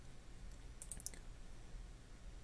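A mouse clicks inside cladding estimating calculator software, giving a small cluster of quick, crisp clicks close up near the middle. The clicks sit over a quiet background with no talking.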